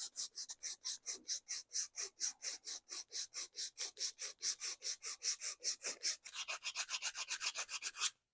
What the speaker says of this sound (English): I want to keep the sanding going in the same direction.